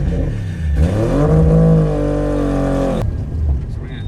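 A modern car fitted with two-step launch control, anti-lag and boost-by-gear revs hard on a hot day, its engine note climbing and holding for about two seconds before cutting off sharply, with a rough idle rumbling before and after.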